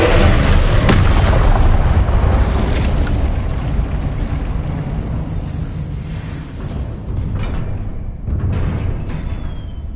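A Confringo blasting spell in Hogwarts Legacy bursts with a loud, booming explosion that rolls into a long rumbling decay, followed by softer bursts and crackling debris, with no voices.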